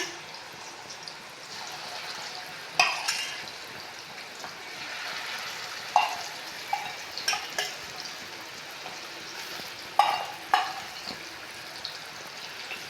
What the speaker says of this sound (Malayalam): എണ്ണ ചൂടായിട്ടുണ്ട് നമ്മൾ മിക്സ് ചെയ്ത് വെച്ചേക്കുന്ന കൊഞ്ച് നമ്മൾ അതിലേക്ക് ചേർത്ത് കൊടുക്കുന്നു